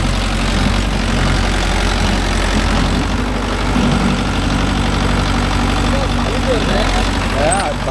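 A Mahindra Yuvo Tech Plus 585 4WD tractor engine runs steadily with a low, throbbing mechanical drone, close and loud throughout, as the tractor pulls a 5-point cultivator.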